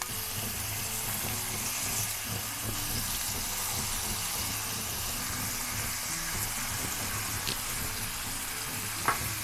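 Omelette pizza slices frying on a tawa over a low flame, giving a steady, even sizzle that fills the whole stretch with no talking.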